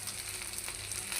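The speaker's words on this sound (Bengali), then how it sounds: "কিছুটা সময় এমন করে ভাজতে হবে যাতে সম্পূর্ণ তেলটা এই পাকোড়ার মধ্যে বা স্ন্যাক্সের মধ্যে প্রবেশ করে।" Potato, sweet pumpkin and noodle snacks fry in oil over medium-low heat, giving a brief, even, close bubbling sizzle with no voices.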